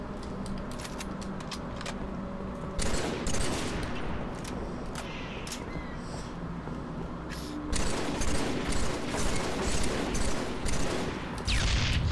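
Halo 3 multiplayer gunfire rattles in dense bursts of rapid shots, swelling louder in a couple of stretches over a constant background of game noise.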